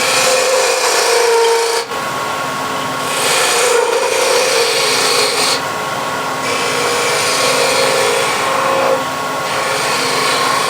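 A hand tool cuts a cove into wood with continuous rasping and scraping strokes, loud and close, sustained throughout with brief pauses between passes.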